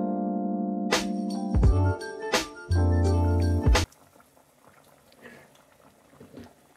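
A pot of Jamaican curry goat with a whole scotch bonnet pepper bubbling on the stove, a soft, irregular boil that follows a stretch of loud, steady tonal sound.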